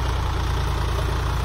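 A Solis Yanmar 5015E 50 hp power-steering tractor engine idles steadily with a low, even diesel rumble, close and continuous throughout.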